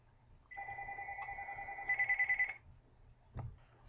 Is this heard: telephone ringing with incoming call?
yes